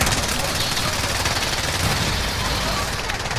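Dense, continuous rapid gunfire from a video game crackles loudly and without pause, blended with voices.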